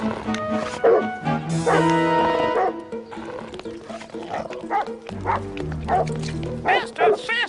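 A chained dog behind a fence barks and yips in short repeated bursts amid lively children's show music and singing voices.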